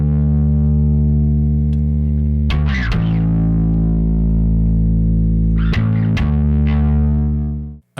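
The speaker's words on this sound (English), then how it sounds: "I'm using a little distortion on the bass just so it comes through on small speakers a little better" Distorted electric bass guitar with a gritty, buzzing tone plays long held notes in a classic rock bass line, loud and alone, with a couple of string attacks before the final note cuts off.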